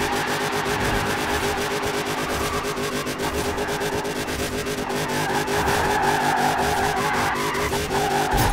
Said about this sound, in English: What you do is, you set it in fourth gear and hit the accelerator.